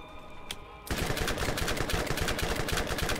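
Gunfire in the Borderlands video game, a sharp shot early on followed by sustained rapid automatic fire that stays loud and continuous to the end.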